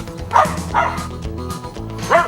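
A shy, roughly four-year-old female dog at an animal rescue ranch gives a few separate barks, with the loudest yip near the end. The barks are fairly close over a steady background hum.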